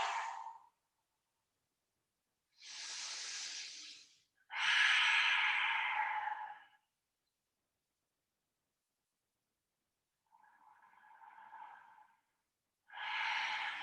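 Slow, deep breathing during a seated yoga twist, with several long audible inhales and exhales separated by quiet pauses, close and soft.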